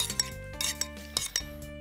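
A spoon stirs an orange juice and oil dressing into a couscous salad with mint and dried cranberries, making a quick series of light clinks and scrapes against a bowl, close and soft, over faint background music.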